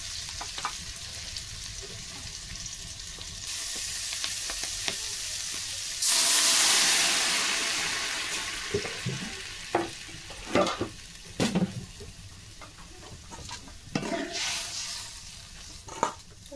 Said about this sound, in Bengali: আমি এখন এর ভিতরে জল দিয়ে দেবো।